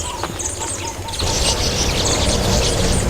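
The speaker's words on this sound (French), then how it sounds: "soit le bruit des oiseaux" Birds chirp in an open savanna, a few faint tweets over a broad outdoor rush that grows louder partway through, distant and steady.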